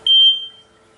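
A single loud, high electronic chirp from a smoke detector right after its battery is swapped and the cover shut, fading out within half a second.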